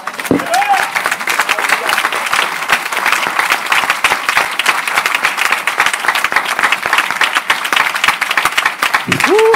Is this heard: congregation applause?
yes